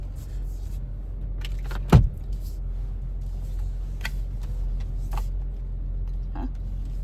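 Steady low road rumble fills a car cabin while driving, with a brief thump near the start and a few faint clicks, no one talking.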